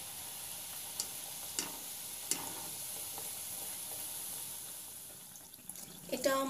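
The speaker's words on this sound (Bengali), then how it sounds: "একইভাবে আরেকটু ব্যাটার আমি এর মধ্যে দিয়ে দিব ফ্রাই করার জন্য" Malpua batter fries in oil with a faint, steady sizzle, broken by a few sharp ticks and clinks and a short burst of handling noise near the end.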